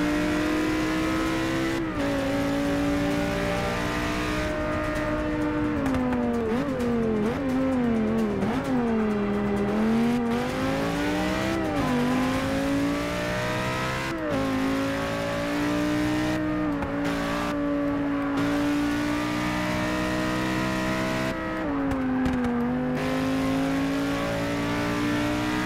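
A car driven in an Xbox Series racing game with an exotic GT car, its engine droning steadily and loudly throughout with rising and falling revs as it accelerates and eases off.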